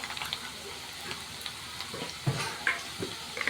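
Chopped onion with a pinch of salt fries in a pan for a Malvani prawn curry, a soft steady sizzle with a few clinks and stirring scrapes, close and fairly quiet, no speech.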